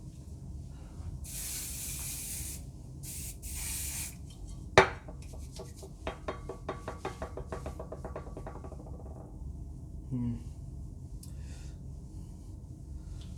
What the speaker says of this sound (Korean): 스프레이 다 썼네?